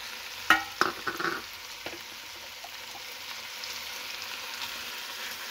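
A wooden spoon stirs garlic and tomato paste into vegetables in a Dutch oven for beef stew. A few knocks and scrapes come early, then a quiet steady sizzle continues with no talk.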